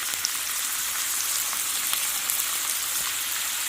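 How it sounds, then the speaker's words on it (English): Onion chunks sauté in a pan for a soup recipe, giving a steady, close, even sizzle with faint crackles throughout and no talking. "So I'm going to saute them in my pan right here."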